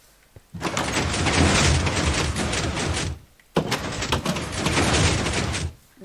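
Door in the video game Minecraft, two long loud sliding, grinding movements separated by a brief pause, the second starting abruptly, close with no speech.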